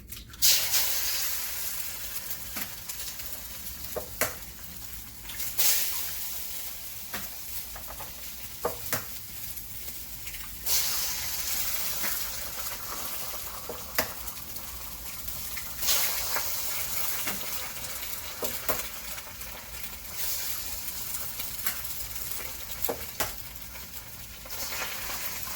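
Seven eggs for an Asian-style rice dish sizzle in a pan, a steady close hiss broken by scattered clicks and small crackles throughout, with no voices.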